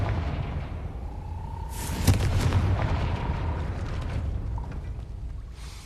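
Confringo fire spell from the Hogwarts Legacy video game exploding. A sudden booming burst lands about two seconds in, then a rumbling tail fades over steady game ambience.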